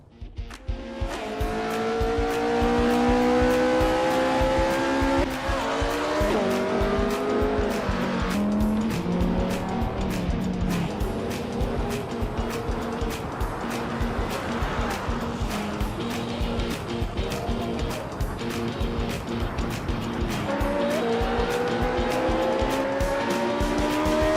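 A Lotus hypercar races in Assetto Corsa, its loud engine whining and shifting pitch through gears while tyres squeal repeatedly, close and continuous without talk.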